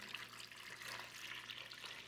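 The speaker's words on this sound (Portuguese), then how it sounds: "Então vamos colocar água aqui." Tap water runs into a cooking pot, a soft continuous splashing stream held at a steady level for a couple of seconds, faint and close with no voices over it.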